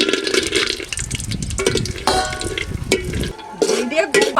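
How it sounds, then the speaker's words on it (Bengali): Cashews and raisins frying lightly in a pan with whole garam masala tempering, a close bubbling sizzle with scraping stirs, joined by a voice speaking. "কাজু কিশমিশ হালকা ভেজে নিয়েছি"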